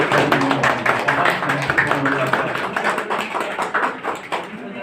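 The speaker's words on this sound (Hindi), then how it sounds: "तालियां बजती रहे सम्मान होने के।" Audience applause at a felicitation ceremony during a community medical camp and poetry program in Vasai, a steady patter of clapping that runs throughout while someone speaks over it.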